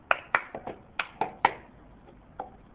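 Cup song routine of hand claps, slaps on the back of the hand and a cup being lifted and set down, a run of crisp close taps that slows to a couple of softer knocks near the end.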